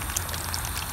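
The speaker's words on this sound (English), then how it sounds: "I'm just going to let the water run" Water from a hose runs onto a sandy-soil garden grow bed being prepared for sweet corn, making a brief, quiet, steady trickle and splash.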